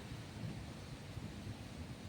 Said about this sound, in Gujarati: અંધારા પડતા આવે વીજળીને ગાજને બધું ભેગું